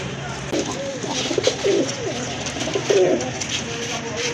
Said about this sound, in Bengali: বিগ সাইজের এক জোড়া নান কবুতর